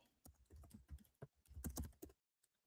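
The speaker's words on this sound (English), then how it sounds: "let's just type in piano lessons" Quiet, close clatter of typing on a computer keyboard, a quick run of irregular keystrokes lasting about two seconds, ending in a brief silence with a couple of final taps.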